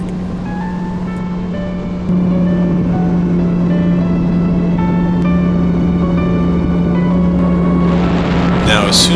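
A Yamaha WaveRunner jet ski on the Gulf of Mexico, its engine holding a steady loud drone with strong wind buffeting the microphone, and a splash of water near the end.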